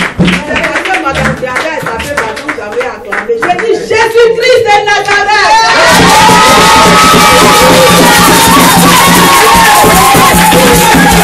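A church congregation at a worship service cheers and claps in loud acclamation, a dense roar swelling in halfway through over singing and music that continues underneath.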